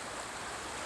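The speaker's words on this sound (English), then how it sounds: "The sound of the water is going to be great tonight when I sleep" A river flows near a campsite in Romney, West Virginia, a steady, full rush of moving water with no break across a brief moment.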